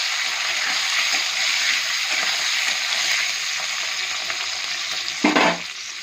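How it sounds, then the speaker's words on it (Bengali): Capsicum frying in a pan for a mutton dish, a steady crackling sizzle close by with a brief louder stirring clatter near the end. "ক্যাপসিকামটা কিন্তু আমি ভালো করে ভেজে নেব"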